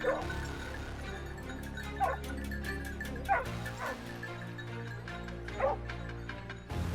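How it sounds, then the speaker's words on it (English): Hunting dogs bark and yelp in a forest, several short sharp calls at irregular intervals over a low steady background, fairly close and with no talking. "The sudden bark of the hunting dogs echoed,"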